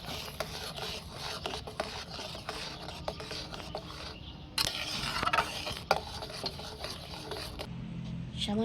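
Tomato puree being stirred in a pan as it cooks down, with steady scraping and rubbing strokes and a soft sizzle running throughout, close and moderately quiet.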